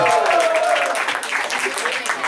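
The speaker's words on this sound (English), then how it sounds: "So big round of applause to Father Augustine." An audience claps, a dense burst of applause that stays loud and then eases off a little over a couple of seconds.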